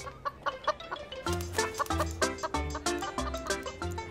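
Several hens cluck close by in a steady run of short, choppy calls, loud and busy, with no talking over them.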